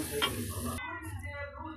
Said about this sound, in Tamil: நல்லா கிளறிடணும்